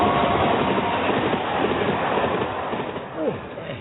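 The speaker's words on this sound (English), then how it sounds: "that could have been another train run, but it went by so fast I couldn't really see" Train rushing past at speed on the London to Glasgow main line: a loud, continuous rumbling roar that eases slightly toward the end.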